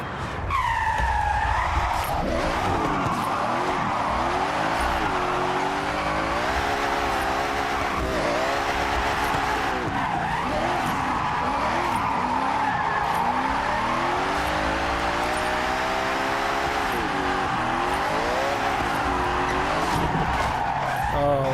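A car drifts in Forza Horizon, tyres skidding and squealing in long sweeping arcs while the engine revs rise and fall repeatedly, loud and continuous throughout with no talk.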